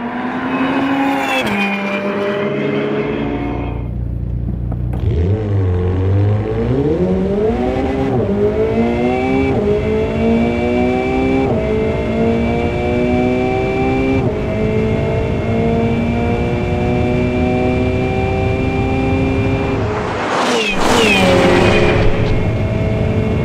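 A McLaren 720S supercar launches hard from a stop without launch control on cold tires, its engine roaring loudly and rising through several gear changes with brief pauses between shifts, then a sharp burst near the end.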